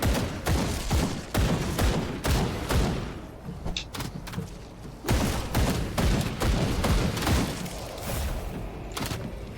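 Shooting in the video game Grim Dawn, a fast, relentless series of loud punchy shots and impacts across nearly ten seconds, briefly thinning mid-way before resuming at full intensity.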